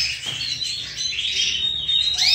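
Chicks chirping as they leave the nest, a steady stream of thin, high-pitched peeps heard fairly close and continuous throughout, with no voices.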